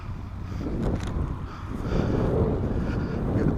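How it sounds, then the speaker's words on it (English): Wind gusting outdoors at a boomerang throwing session, buffeting the microphone with rough, swelling rumbles that rise and fall, loud and close, with no voices. "That wind is all over the place."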